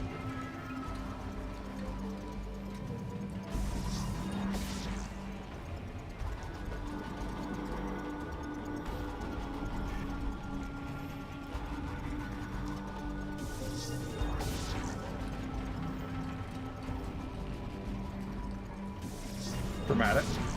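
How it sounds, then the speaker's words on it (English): Maintenance tank elevator in the Metroid Prime 4 video game, moving steadily: a quiet, continuous mechanical hum and low drone with faint periodic clanks and swells throughout. "Maintenance tank elevator online."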